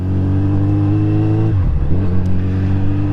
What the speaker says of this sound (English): thanks to my Delkovic header exhaust, sounds absolutely incredible as well